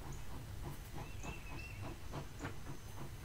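Train station ambience in The Lion's Song video game, with a steam train giving off a steady loud hiss, faint rhythmic chuffs and a brief high whistle-like tone, no voices.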